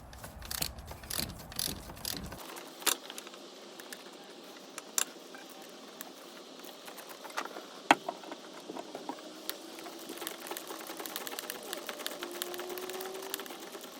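Ratchet clicks come from a wrench working a loose alternator bolt during timing belt work on a Ford Fiesta 1.6 Ti-VCT, as quiet metallic ticks and clatter scattered over fourteen seconds with no talk.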